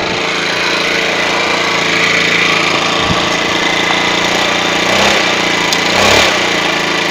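Scooter engine started without its wiring, running at a loud, steady idle with a rough buzzing drone, brief knocks and a swell of revving near the end, close to the microphone, no talking.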